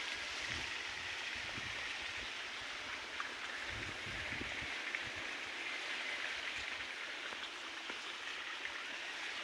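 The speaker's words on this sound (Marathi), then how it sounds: "तिकडे आपलं बोरवेलचं पाणी चालू आहे." Borewell water runs on a farm in hot weather, a soft, even hiss of flowing and splashing water heard at a distance, steady throughout with a few faint low thumps and no speech.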